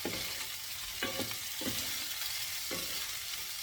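Baby shrimp fry in a pan with a steady, close sizzle, broken by several short bursts of stirring and scraping.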